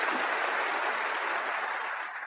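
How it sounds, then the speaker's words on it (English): Dense, even clapping from a large audience at a broadcast talk, loud at first and tapering slightly near the end, with no voices over it. "We're sure clapping hard."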